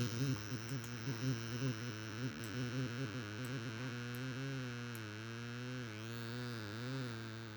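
Synthesized noise built from a cloud texture plays back as a steady, wavering electronic drone with a buzzy, distorted tone, its pitch sliding and pulsing throughout, with faint clicks on top and no voices.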